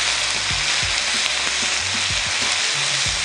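Caramelized pork skewers grill in a pan with a loud, steady sizzle and hiss throughout, broken by soft low knocks and scrapes as the skewers are shifted and flipped.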